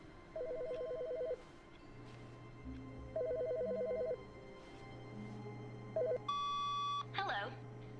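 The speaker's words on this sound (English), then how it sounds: "The phone's ringing?" Telephone ringing in the video game The Stanley Parable, repeated electronic ring bursts at a steady interval over a quiet low hum, followed by a higher tone near the end.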